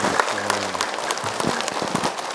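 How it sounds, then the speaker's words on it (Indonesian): An audience applauds a guest at an event, a short burst of scattered, crackling clapping at moderate volume. "Ustaz Zaki, tepuk tangan nih untuk Ustaz Zaki Mirza."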